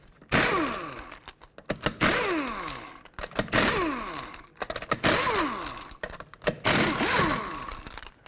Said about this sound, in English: Remove all 5 of your lug nuts.